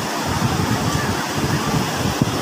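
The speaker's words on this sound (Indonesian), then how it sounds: "Wow, ombak gede tuh." Surf at Batu Bintang beach in Pelabuhan Ratu, Sukabumi, heard as a steady broadband wash of waves mixed with wind buffeting the microphone, with no clear individual breakers.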